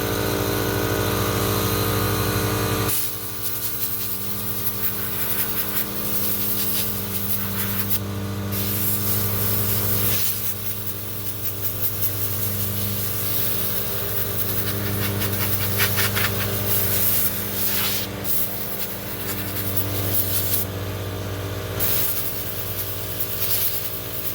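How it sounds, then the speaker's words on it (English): Compressed air from an air compressor hisses loud and steady against the air filter of a Cub Cadet XT1 50-inch riding mower, a continuous close blast with brief dips and surges and no talk. "I got my air compressor here. I'm trying to blow this out"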